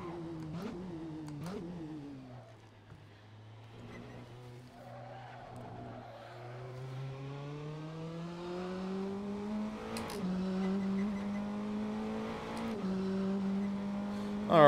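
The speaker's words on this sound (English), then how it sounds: "this Praga R1. I think it's one of the underrated cars in Assetto Corsa" A Praga R1 race car in Assetto Corsa laps Monza. The engine drones steadily, dips as the car slows, then climbs back through a long rising pull with brief tyre chirps. It stays loud and close throughout, with no talking.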